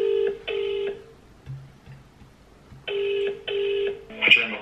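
Telephone keypad dialing tones on a call to a careers advice line, with several clear beeps in two bursts separated by lower tones, close and distinct, with no voices.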